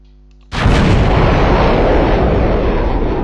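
A large 'Nuke' firework goes off with a sudden, very loud blast after a short quiet moment, then a sustained, dense roaring crackle that fills the rest of the moment.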